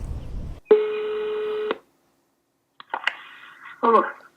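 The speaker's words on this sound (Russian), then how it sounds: "14 числа мы позвонили ему на мобильный телефон." A phone call to a mobile connects with a steady electronic tone for about a second, then silence, followed by short chirping connection sounds and a brief ring-like burst.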